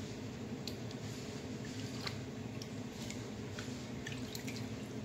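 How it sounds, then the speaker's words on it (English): Raw pork steak is rinsed in water, giving faint scattered drips and small wet squishes over a steady background hiss. "I'm cleaning the pork steak"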